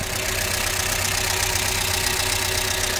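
A Skoda Octavia 2 with a turbo problem idles steadily nearby, giving an even, continuous engine drone with no revving.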